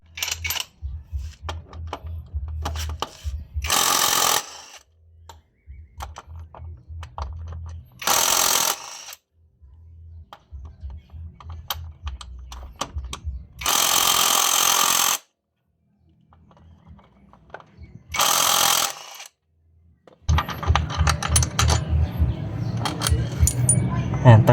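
A socket wrench loosening screws on the CVT cover of a Honda Click 160 or PCX 160 scooter, with bursts of rapid metallic ratchet clicking and rattling separated by pauses and short loud noise bursts.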